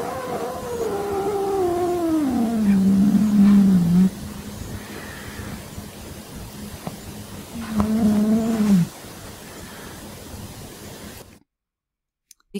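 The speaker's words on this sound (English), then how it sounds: "she just growls very friendly to tell her kids that, please let me take a nap now" A mother cat growls gently at her kittens, two drawn-out throaty rumbles that slide downward in pitch, close and fairly loud over a steady background hiss, then the sound cuts to silence.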